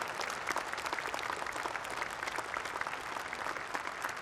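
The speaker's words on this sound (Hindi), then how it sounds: "हम सब इसकी ताली बजाकर स्वागत करें और उनके प्रति धन्यवाद ज्ञापन करें" Sustained audience applause fills a cooperative conference hall, dense steady clapping from a large crowd that holds at even loudness throughout with no voices on top.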